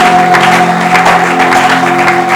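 A church congregation applauding in loud, sustained clapping that fills the space, with a steady tone held underneath.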